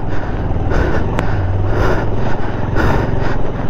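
Motorcycle straining on a steep cliff road with its rear wheel spinning, giving a loud, close, steady engine drone with rough low rumble and hiss and no clear breaks.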